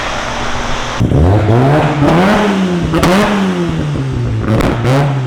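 A car engine, still on its break-in, revs up sharply, then runs with repeated climbs and dips in pitch, loud and close, with a brief clattering edge and no talking.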